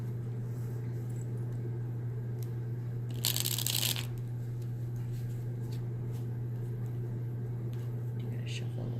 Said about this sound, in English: I'm gonna shuffle a little bit.